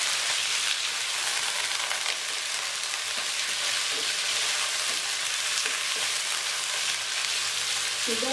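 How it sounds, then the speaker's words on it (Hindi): Chicken pieces fry in hot oil for Mecca biryani, giving a loud, constant crackling sizzle with faint stirring knocks and a brief clatter near the end. "ऑयल गर्म हो गया, अब हम इसमें चिकन डाल देंगे।"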